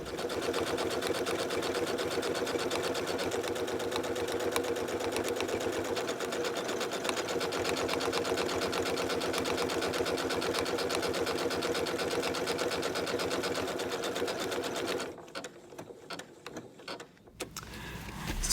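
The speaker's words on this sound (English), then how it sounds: "then you can see how it will stitch a buttonhole automatically." A sewing machine stitches a buttonhole automatically with a fast, steady mechanical whir and rapid needle clatter for about fifteen seconds. It stops, and a few quieter clicks follow.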